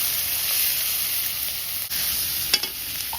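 Bay leaf, dried chilli, crushed nigella seeds and a ground ginger-garlic paste sizzle steadily in hot oil, a close, continuous frying hiss with faint stirring scrapes and a couple of brief crackles near the end, no voices.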